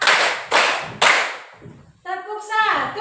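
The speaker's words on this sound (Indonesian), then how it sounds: "Tepuk 1, tepuk 2, tepuk 3" A group claps in a counted rhythm during a teacher-training session at Universitas Lambung Mangkurat: three sharp loud claps at even half-second intervals, then a voice speaks.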